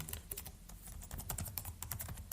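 Fingers tap rapidly on a computer keyboard, a close, quiet stream of crisp keystrokes with small pauses between clusters.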